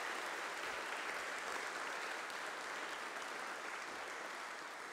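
Audience at a startup demo day giving a sustained round of applause, a thick wash of clapping that holds steady with no voices over it.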